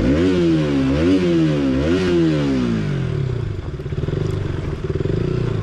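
A KTM Duke 200 motorcycle engine revs loud and close, its pitch rising and falling in several sweeps before settling into a lower rumble.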